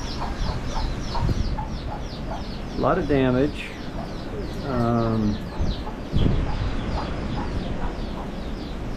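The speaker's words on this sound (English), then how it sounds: "Chickens have taken shelter with me a bit." Chickens sheltering indoors after Typhoon Mawar cluck and crow in a few loud nearby calls, with a person speaking under them.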